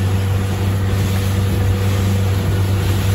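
A Carolina Skiff 23LS runs on Lake Worth with its outboard motor droning steadily, mixed with constant wind and water rush right at the microphone; no talking.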